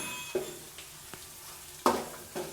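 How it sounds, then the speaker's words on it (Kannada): Potato pieces fry in oil in a pan, a soft steady sizzle broken by a few scraping stirs and clinks of a utensil against the pan, close by with no talk. "ಆ ರೀತಿ ನೀಟಾಗಿ ಫ್ರೈ ಮಾಡ್ಕೋಬೇಕು. ಎಣ್ಣೆಲೆ ಬೇಯಬೇಕು."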